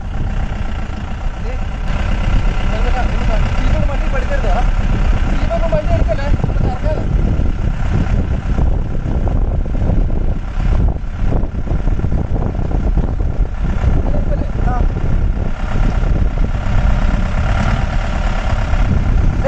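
A vehicle engine rumbling steadily as it drives through muddy standing water, with splashing and sloshing mixed in and voices talking over it throughout.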